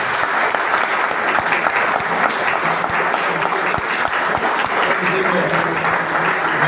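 A crowd at a Peronist political gathering in Baigorria applauds Goyo, a dense, even wash of clapping that holds at full strength for the whole stretch.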